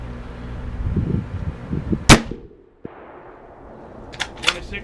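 A single sharp, loud rifle shot from a 30-06 firing 165 grain Winchester Super X Power Point ammunition outdoors, followed by a short echo, with faint talk before it.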